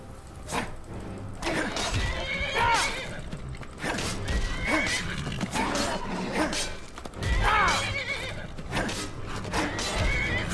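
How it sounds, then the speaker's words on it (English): A stall horse in a Zelda game lets out repeated shrill neighs and whinnies amid scuffling combat noises, loud and close, with no talking. "Don't worry about the stall horse unless it attacks you, which it's doing."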